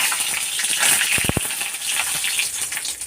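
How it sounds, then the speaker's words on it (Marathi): Curry leaves crackle in hot oil for a tempering, with steady broadband sizzling throughout and a brief cluster of sharper pops near the middle, close and moderately loud with no talking. "कढीपत्ता टाकते फोडणीला"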